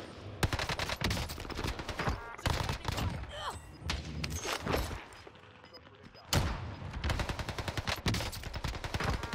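An Owen gun fires in Call of Duty on Rebirth Island as loud rapid automatic bursts, broken by short pauses, with other gunfire and thumps mixed in and a voice talking at times.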